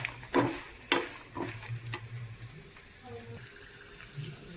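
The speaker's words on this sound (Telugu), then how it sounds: "ఎల్లుల్లిపాయలు స్లోగా వేపుకోవాలండి, మాడిపోకుండా" Garlic frying slowly in a pan for gongura chutney, with peanuts in the dish: a faint, low sizzle under a couple of sharp clatters near the start, then quieter scattered stirring sounds close by.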